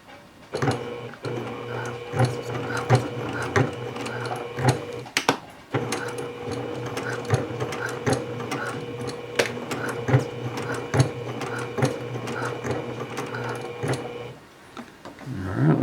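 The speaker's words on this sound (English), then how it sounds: "Let's just go ahead and base this seam" A sewing machine runs a long basting stitch along a seam in steady, fast mechanical ticking, pausing briefly once and resuming, close and without talk.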